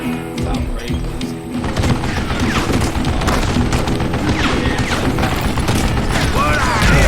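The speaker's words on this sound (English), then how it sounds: "Sorry for the Gatling gun" A Gatling gun fires in Call of Juarez Gunslinger, a loud, dense stream of rapid shots with heavy booms and clattering impacts running continuously throughout.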